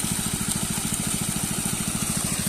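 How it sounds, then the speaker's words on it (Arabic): A small electric motor runs steadily, mixing a salinity treatment into water with an even, rapid low throb at constant loudness and no talking. "تخلي الموتور يشتغل للوقت حتى شنو يتجانس المادة ويا المي بصورة صحيحة وبتوازن"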